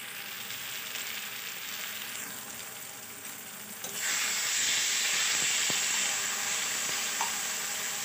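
Egg bhujiya frying in a pan, a soft hiss that suddenly jumps into a loud, steady sizzle partway through and keeps going, with faint stirring clicks and no voices.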